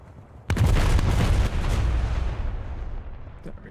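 A battleship's main guns fire a salvo in a naval combat game: one loud, deep boom that rolls on and slowly fades over several seconds, with a faint click near the end.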